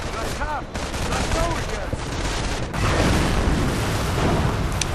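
A battlefield in a World War II video game, with dense gunfire and rumbling blasts, including a Panzerschreck rocket hit, forming a loud continuous barrage of shots and booms that thickens toward the end.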